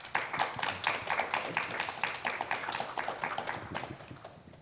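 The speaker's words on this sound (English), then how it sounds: "Let's give them one more round of applause." Audience applause for a panel at the close of a Spring 2025 program, steady clapping of a modest crowd in a room that fades slightly toward the end.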